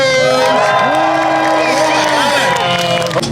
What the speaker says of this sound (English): And if you want the Civic to win, make some noise.